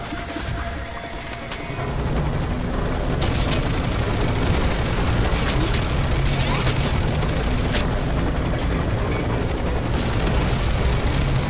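Helicopter in flight in the video game F.E.A.R. 3, a loud, steady, close rotor and engine roar that starts quieter and then fills in, with sharp bursts that sound like gunfire or impacts cutting through.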